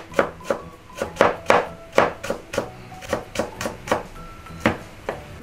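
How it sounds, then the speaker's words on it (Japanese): A knife chops ingredients for a pasta dish on a cutting board: a steady run of about fourteen crisp, close knocks, evenly spaced, with no talk. "これを刻んでいく"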